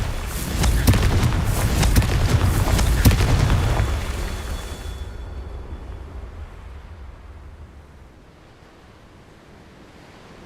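Confringo spell explosion in Hogwarts Legacy, a loud rumbling blast with crackling bursts that rolls on for several seconds before fading into a low, dwindling roar.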